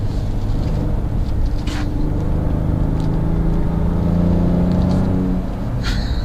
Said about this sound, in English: just punching it uphill, and it's got the torque.